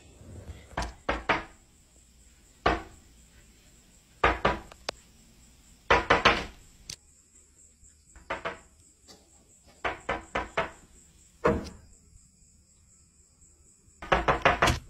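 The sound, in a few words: late-night visitor knocking on a front door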